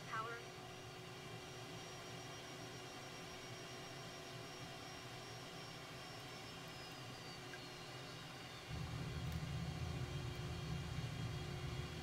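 Simulated airliner on final landing approach in Microsoft Flight Simulator 2020 at St Barth, a steady low engine drone with a thin whine sliding downward, then a louder broadband rush swelling near the end.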